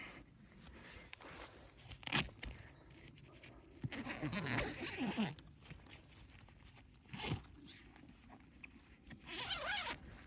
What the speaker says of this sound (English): I'll just get the door undone.